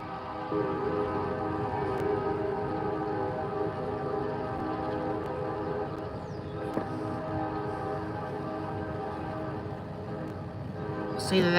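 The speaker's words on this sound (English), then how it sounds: "Trains coming by." A train passes on an early Sunday morning, giving a steady, sustained rumble with tonal hum throughout, fairly distant and unbroken, with no talking over it.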